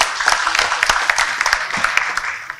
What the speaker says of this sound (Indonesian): kita berikan aplaus dulu untuk beliau.